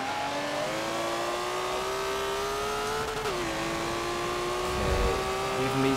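A Ferrari race car engine in the Forza 7 racing game holds a steady high whine that rises slowly, dips briefly and climbs again, loud and close throughout.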